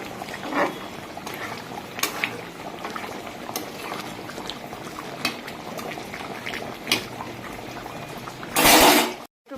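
Rice boiling in salted water in a covered pot, a low steady bubbling simmer with soft pops and light clinks, then a brief louder rush of steam or stirring near the end.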